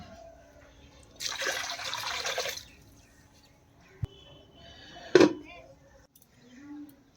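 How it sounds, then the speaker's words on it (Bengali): Water is poured into a pot to heat for pulao, a brief splashing pour followed by a quiet pause, a single drip-like tap and a second short gush of liquid. "তাই জন্য এই বাটির 2 বাটি জল দিয়ে দেব।"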